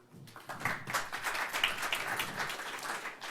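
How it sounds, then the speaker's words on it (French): An audience at a developer talk on connected objects claps in steady, moderately distant applause that holds for the whole stretch without speech on top. "On applaudit"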